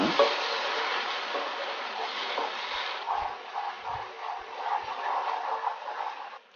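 Masala paste roasts in oil in a pan for a village chicken rassa: a steady, close sizzle throughout with soft scraping stir strokes and low thumps of the spoon against the pan.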